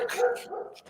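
A dog barks a few times close by, short sharp yaps over a brief stretch with no talk.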